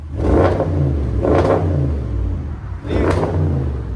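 A 4.0-litre twin-turbo V8 in an Audi S7 with muffler delete, revved in sport mode, gives three loud, close blips that surge and fall back to a deep idling rumble.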